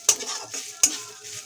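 Cashews and raisins drop into hot oil in a pan alongside fried ginger and green chillies, giving two sharp metallic clinks of a spoon against the pan over a soft, low sizzle.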